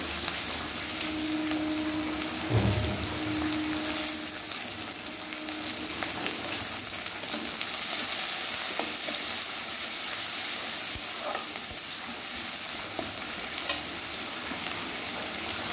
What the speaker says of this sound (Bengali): তো আমার রসুন পেঁয়াজটা মোটামুটি ভাজা ভাজা হয়ে গেছে।